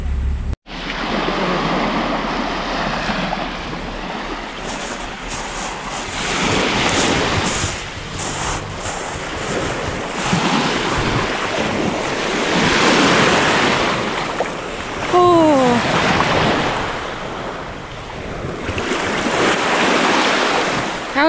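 Waves breaking and washing up a beach on Lefkada, Greece, with strong wind buffeting the microphone, a loud continuous surf that swells and recedes over about twenty seconds, no speech.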